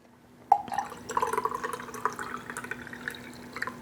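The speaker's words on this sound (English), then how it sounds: "And then I pour my tea over." Tea is poured over from a jar, a sharp clink followed by a close, bubbling trickle of liquid that continues with small splashes and fades slightly toward the end.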